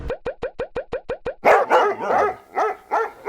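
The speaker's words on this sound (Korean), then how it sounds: "파나아첼에 이렇게 개들이 많아요." Dogs bark in the streets of Panajachel, Guatemala. Nine quick, evenly spaced barks come first, followed by a looser run of louder, rougher barks close by.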